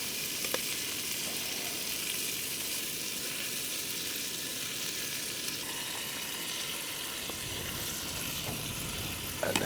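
Sausages sizzle and fry steadily in a pan on a Jetboil camping stove, spinach piled on top, while wild camping in the Peak District; a continuous close, even crackle runs throughout with no talk.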